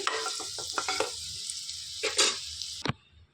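Eggs fry in a pan with a bright, steady sizzle, broken by several stirring and scraping bursts. The sizzle cuts off abruptly near the end. No one speaks.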